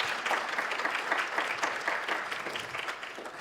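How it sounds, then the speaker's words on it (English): Audience applause at a zero waste festival session in Minnesota, a steady dense clapping from a sizable crowd that holds fairly even for several seconds before tapering slightly. "Let's give a round of applause."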